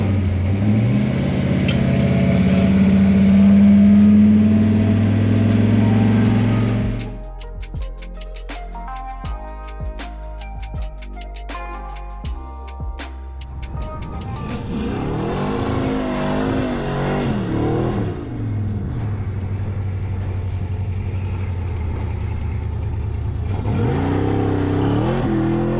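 A 1964 Mercury Comet drag car with a stroked 393ci engine on a dyno during a third-gear pull toward 6,500 RPM: a loud, sustained engine roar, then a drop to a harmonic, stuttering rev that climbs and swells again, with no talk.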